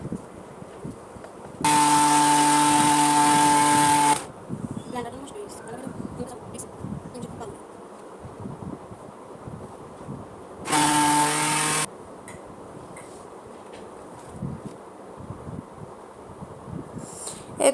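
An electric blender whirs in two bursts, a steady high-pitched drone of about two and a half seconds and then a shorter one, with quieter kitchen sounds and a voice in between.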